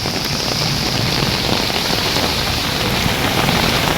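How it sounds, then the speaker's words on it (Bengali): Heavy thunderstorm rain in Kolkata, a loud, dense, unbroken roar of downpour on surfaces, close and constant throughout with no distinct thunder. "দুপুর হতেই কলকাতা সহ দক্ষিণবঙ্গের বিভিন্ন জায়গায় দফায় দফায় তুমুল বৃষ্টি হচ্ছে বজ্রবিদ্যুৎ সহ"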